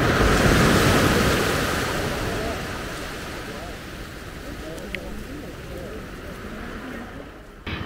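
Sea waves wash in on Dublagadi beach, a broad rushing surf that swells loudest at first then settles into a steadier roar mixed with wind noise.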